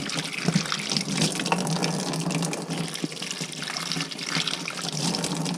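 Running water from a tap pours steadily over a jar being rinsed for a bee feeder, a continuous close splashing gush with no talk.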